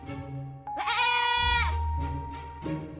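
A goat bleats loudly and close, one long wavering cry followed by shorter, quieter bleats, alone with no talking.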